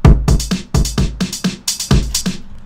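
A programmed drum beat of kick, snare and hi-hat plays back in a tight, punchy rhythm, with steady hits a fraction of a second apart, loud, close and without any voices.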